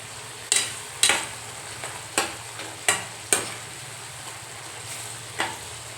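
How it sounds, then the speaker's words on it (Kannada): Bitter gourd curry stirred in a pan, with a spoon scraping and knocking against the metal about seven times at irregular intervals over a steady low sizzle. "ಈ ಥರ ಎಲ್ಲ ಮಿಕ್ಸ್ ಮಾಡ್ಕೋಬೇಕು"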